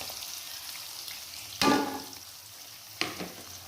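Sautéed spice paste for sambal balado fish drops into a hot frying pan, a sudden loud sizzle burst followed by a second shorter sizzle over a low background hiss.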